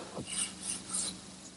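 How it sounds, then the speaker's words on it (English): Soft, rhythmic rasping strokes of final hand sanding on a wooden secretary desk, steady back-and-forth scrubbing at low volume, heard alone. "A little bit of final sanding"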